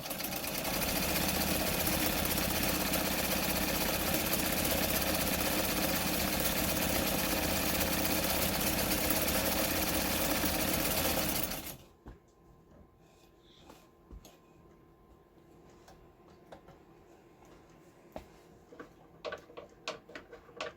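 A White 565 sewing machine stitches steadily, loud and continuous for about eleven seconds before stopping abruptly, followed by faint clicks and handling sounds.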